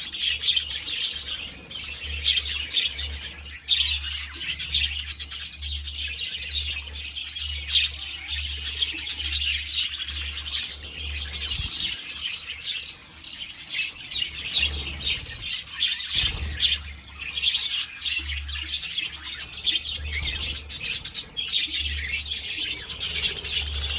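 A pair of budgies chirps steadily while feeding their chicks, with a dense, continuous twittering that stays close and busy and has only brief dips, over a low background hum.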